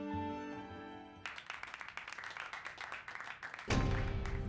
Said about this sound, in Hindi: तालियों की आवाज आ रही है, मुझे लगता है फंक्शन शुरू हो गया है